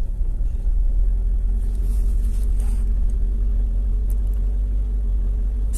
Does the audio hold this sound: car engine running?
yes